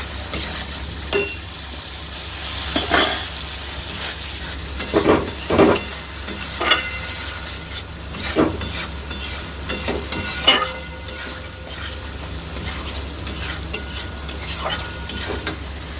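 Spices for a thin rohu fish curry fry in a pan, a low sizzle running beneath repeated scraping strokes of a metal spatula, with occasional clinks against the pan and no voices.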